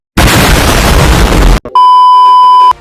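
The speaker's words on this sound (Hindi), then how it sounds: "वरना मैं तोप से उड़ा दूंगा।" A loud, sustained explosive roar like a cannon blast lasting over a second, cut off abruptly and followed by a steady electronic beep tone.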